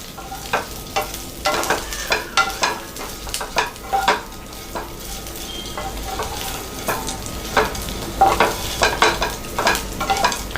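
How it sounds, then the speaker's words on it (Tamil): Uppu kozhukattai mixture being stirred in a pan, a spoon scraping and mixing in steady repeated strokes over a soft sizzle, close and alone with no voices. "இதை நல்லா மிக்ஸ் பண்ணி விட்டுக்கோங்க."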